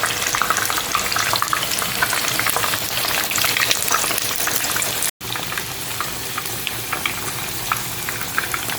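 Potatoes and meat fry in a pan with a loud, steady, crackling sizzle that cuts off for a split second midway, then carries on just as strongly, without voices.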